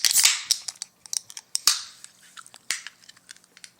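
Beer cans being cracked open at a brewery tasting, with sharp pops and hissing snaps followed by a scatter of small metallic clicks and crackles, close and crisp with no talking.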